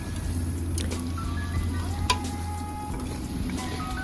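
Onions and meat sizzling and frying in a pan while being stirred, a steady crackling hiss with occasional scraping clicks of the spoon, close and continuous.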